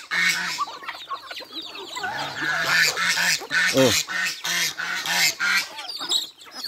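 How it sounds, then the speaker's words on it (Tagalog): Farmyard fowl call loudly and continuously, with a goose honking among chickens in a poultry yard, repeated nasal honks and clucks close by, and a person briefly exclaiming over them. "Oy, gansa. Sigaw ka ng sigaw."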